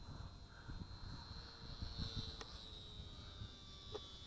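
Volantex V761 Trainstar RC trainer airplane flying overhead, its electric motor giving a steady, thin high-pitched whine that holds at moderate level throughout, with faint wind rumble below and no talking.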